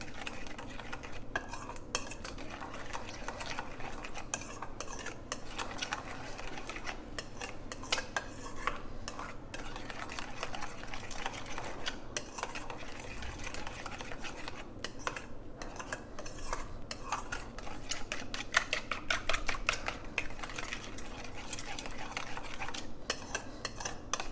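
Pizza dough ingredients being mixed in a bowl with a utensil: a continuous run of scraping, clinking stirring strokes at moderate, irregular pace, close by and fairly quiet, with no speech.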